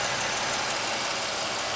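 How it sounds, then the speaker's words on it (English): An old Pontiac Grand Prix engine idles at a steady, even rumble, close by and continuous, with no voices over it. "the engine comes back down to normal idle"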